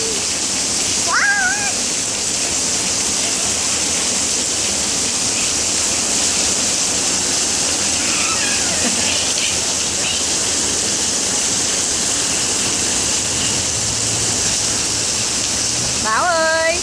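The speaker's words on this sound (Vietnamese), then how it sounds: "Wow, mưa lớn quá." Heavy rain pours down as a dense, steady roar of water that stays loud and even throughout, with a few brief high chirps or squeaks over it and no clear talk.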